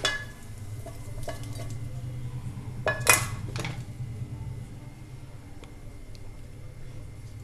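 Cooked mutton keema balls are moved onto a serving plate in a kitchen, giving a few faint clinks and scrapes of utensil on dish over a low background hum, with one brief louder clatter near the middle.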